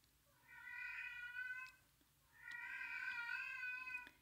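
A large 15-pound cat gives two drawn-out, plaintive meows with a short pause between them. The cries sound fairly faint against a quiet background, with no talk.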